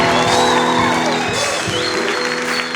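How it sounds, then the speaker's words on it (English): A church congregation claps and cheers loudly during a service, a dense sustained burst of applause with shouts and whoops, nearby and full, with some voices mixed in. "That clapping is not enough for you."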